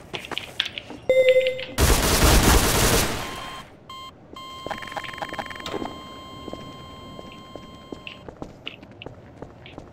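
Gunfire in a role-play video game comes as a loud dense burst of rapid shots lasting over a second, among scattered beeps, tones and footstep-like clicks.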